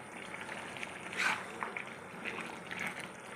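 Soft bubbling and gurgling of pumpkin greens and prawn curry simmering in an open pot, faint and continuous with a few slightly louder bursts.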